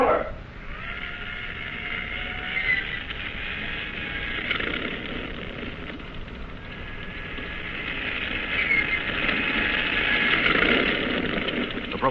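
Seaplane engine starting on a cruiser catapult in an old-time radio drama, a steady droning engine hum that swells and builds over several seconds under faint background noise.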